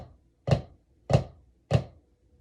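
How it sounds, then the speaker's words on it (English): Three evenly spaced flam strokes on a practice pad, each a crisp doubled tap with a grace note just ahead of the main hit, close and clean with silence between. "So your right hand is hitting the pad before your left hand to create that kind of grace note effect"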